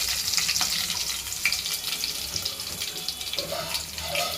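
Tamarind extract pours into a pot of tomato lentil dal with a steady liquid splashing and trickling, close and continuous for a few seconds.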